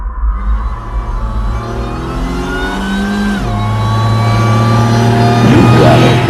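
Pontiac Fiero with a supercharged 3800 V6 revving up, engine pitch rising in a steady climb and dropping briefly before pulling higher again, loud and close with no talk.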